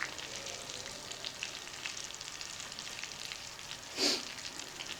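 Steaks cook in butter on a griddle with a hot spot, a low, even bubbling sizzle heard close and alone. One brief louder spit or flare rises out of it.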